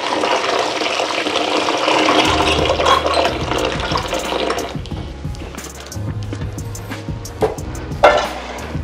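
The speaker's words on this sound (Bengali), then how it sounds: "ভালো করে একে কিন্তু ধুতে হবে জলেতে" Bathua greens being washed in water, with continuous splashing and sloshing as the leaves are swirled and lifted, close and fairly loud, with dripping near the end.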